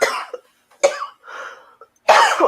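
Several close, rough coughs in short bursts, separated by brief silences.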